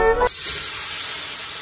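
Radish (mooli) goes into hot cooking oil for a mooli paratha filling, setting off a loud, steady sizzling hiss that continues without pause after a brief initial clatter.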